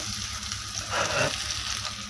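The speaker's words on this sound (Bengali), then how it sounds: "এখানে উচ্চে ভাজাটা করছি ভাজাটা হয়ে যাচ্ছে" Bitter gourd sizzles steadily in a pan, a soft crackling hiss that swells briefly as it is stirred, then settles back.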